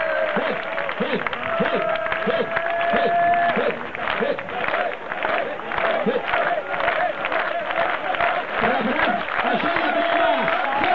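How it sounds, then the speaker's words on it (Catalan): A crowd clapping hands together in rhythm at a gathering in Sant Feliu de Guíxols, steady repeated claps mixed with crowd babble and voices throughout. "anem a picar de mans tots junts"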